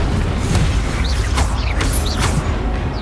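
Incendio fire spell cast repeatedly in Hogwarts Legacy, a run of sharp whooshing bursts and crackling pops close up over a steady low rumble, with no talking.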